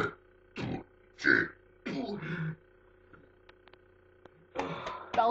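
A boy lets out a series of deep, loud belches in quick bursts, several separate burps spaced by short silences, with a couple more rough ones at the end.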